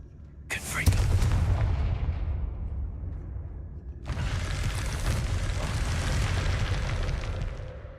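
Confringo blasting spell explosions in the video game Hogwarts Legacy: two loud booming blasts a few seconds apart, each with a sharp crack and rumbling tail.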